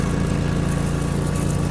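A lawn mower engine in the video game Lawn Care Simulator, a close, constant droning hum with an even pulse that stays unchanged throughout.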